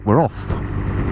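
A Lexmoto Valletta 125cc scooter's engine pulls away and rises in a steady mid-pitched drone, close and fairly loud, after a brief spoken voice at the start.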